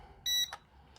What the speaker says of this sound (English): push it down till it beeps